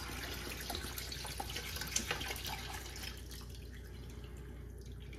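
Teriyaki marinade ingredients for pineapple teriyaki smoked skirt steak jerky pour into a blender as a steady splashing trickle for about three seconds, then fade to a softer drip.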